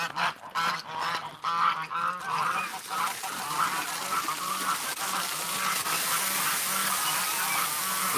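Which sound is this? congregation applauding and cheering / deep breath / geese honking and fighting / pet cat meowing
geese honking and fighting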